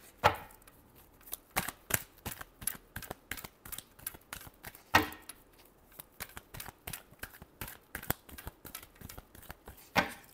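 Tarot cards are shuffled by hand in a rapid run of crisp, papery riffles and taps, close and fairly loud, with a couple of sharper slaps along the way and no talking.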